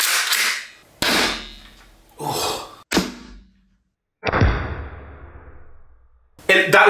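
An Umarex T4e HDX .68 caliber 16 joule paintball pistol fires into 10% ballistics gel: several sharp, loud cracks separated by pauses, each with a short decaying tail, the fourth ringing longer.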